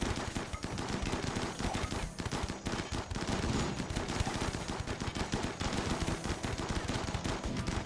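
A machine gun rattling away in a video game set on a shallow-water map, dense rapid bursts of fire continuing loudly throughout.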